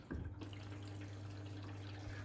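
A Blomberg RapidJET washing machine fills with water, a faint, steady hiss and rush under a low mechanical hum, continuous and close.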